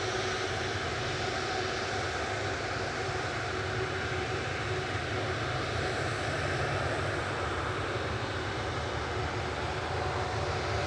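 A Ryanair Boeing 737-800 lines up for departure at Manchester Airport, its jet engines giving off a steady, moderately loud broadband roar that holds evenly throughout without any talking.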